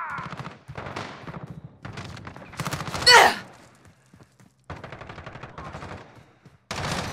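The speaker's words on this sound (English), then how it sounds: "I'm taking fire." Call of Duty Modern Warfare multiplayer gunfire in a team deathmatch against bots, with short bursts of shots separated by pauses and one sharp, louder report, heard alongside in-game voice callouts.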